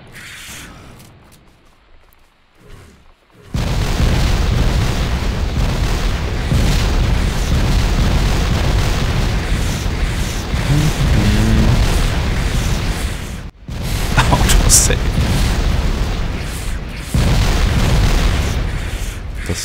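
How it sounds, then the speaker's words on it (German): Grenade explosions in the modded video game Factorio, a dense, loud rumbling barrage of booms running almost continuously after a quiet start, with a brief gap midway. "ich schmeiß einfach eine Granate, wenn die reinkommen"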